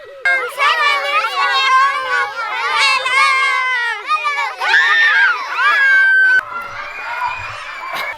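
Schoolchildren scream and shriek together in a loud, dense clamor at a local school in Ethiopia, high overlapping voices sustained for several seconds before dropping to a lower chatter near the end.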